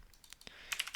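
Keystrokes on a computer keyboard while entering code in a Java program, a few scattered clicks at first and then a quicker burst of typing near the end, close and fairly quiet.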